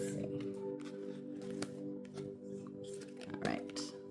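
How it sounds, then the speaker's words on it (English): Tarot cards are shuffled by hand in loose, messy bursts of riffling and sliding, close and fairly soft, with a low steady hum underneath and a person talking over parts of it. "That was just messy shuffling."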